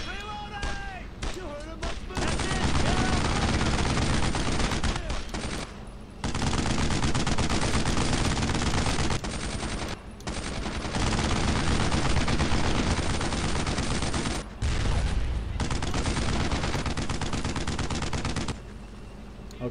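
Gunfire in Brothers in Arms: Road to Hill 30, a World War II shooter: long, loud, near-continuous machine-gun and rifle fire broken by a few brief pauses, with shouted voices in the mix.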